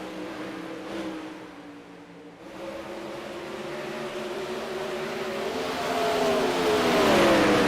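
A 360 sprint car racing on the dirt track at Charlotte, its engine droning and rising in pitch as it approaches, growing steadily louder toward the end with other engines behind.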